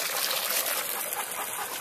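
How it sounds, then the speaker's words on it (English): Water gushing steadily from a garden hose at an outdoor watering spot, a continuous close hiss and splash with no talk over it. "You want to drink from the hose?"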